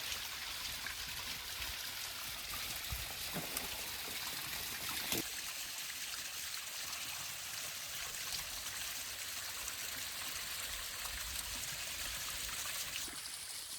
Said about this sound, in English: And at least there's water running today.